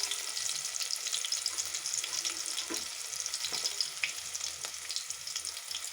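Small onions and fenugreek fry in hot oil for a fish curry, a steady close sizzle with light crackles and occasional stirring scrapes, no talking.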